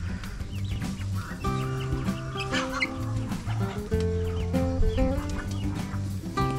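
Chickens on a farm by a fishpond cluck and squawk repeatedly over a busy, continuous background of music, with irregular calls scattered throughout.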